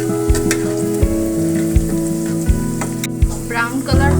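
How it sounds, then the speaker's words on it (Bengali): Potatoes fry with salt and turmeric in a hot pan, a constant sizzle broken by recurring scraping stirs and a few sharp knocks against the pan. "এতে পরিমাণ মতো লবণ, হলুদ দিয়ে সুন্দর করে এটা ভেজে নিই"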